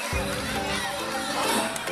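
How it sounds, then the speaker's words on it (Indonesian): Students in an Indonesian school classroom, during a disaster-education lesson, clap for a classmate, a dense burst of applause mixed with excited children's shouts and chatter that fills the whole moment. "tepuk tangan dulu untuk Kevin"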